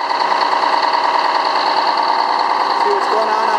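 Port boat engine idling steadily just after starting, a close, even mechanical drone with a fine rhythmic patter and buzzing overtones held at constant level throughout.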